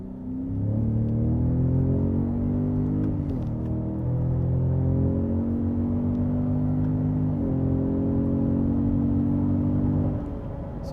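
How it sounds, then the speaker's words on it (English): A 2017 Ford F-150 Raptor with turbocharged engine accelerating hard in deep sand, a loud continuous engine roar rising in pitch with brief dips at gear shifts, steady and close throughout with no talk. "as soon as I hit the throttle, the turbos are gonna spool and then we're gonna get moving."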